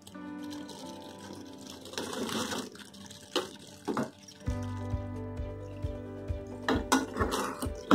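Fried tofu tipped into a boiling chili sauce with onion and capsicum in a pan, then stirred to coat: intermittent metallic clinks and scrapes of a spoon against the pan over a steady low hum and gentle bubbling.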